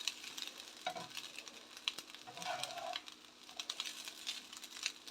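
For crab rice, rice fries in a pan with a soft, steady sizzle while being stirred, with clicking scrapes and light taps of the utensil, quiet and close, with no voices.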